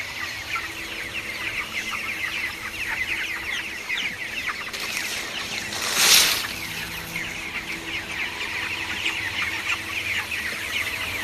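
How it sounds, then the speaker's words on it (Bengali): Farm chickens cluck and chatter continuously at close range, with one louder burst of noise midway through and no talking. "মুরগিগুলো এখানকে খাবার খাচ্ছে"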